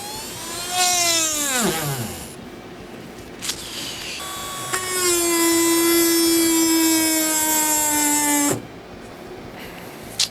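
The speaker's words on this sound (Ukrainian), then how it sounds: "Ну і ще легенько попробуємо посверлити, сверло у нас 3 мм, теж максимальні оберти." A Black & Decker BCRT8I 7.2-volt cordless multi-tool spins a 3 mm drill bit at full speed, a close, loud whine that ramps up, dips under load, then holds steady for several seconds before cutting off.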